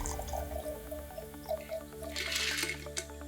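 Shaken cocktail base pours into a champagne flute in a steady, close liquid trickle with small drips, and a brighter splash sounds near the end.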